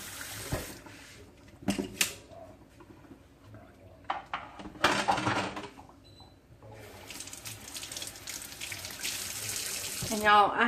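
Water runs from a tap into an old farm sink in bursts, with dishes clinking and short knocks between, ending in a steady continuous stream.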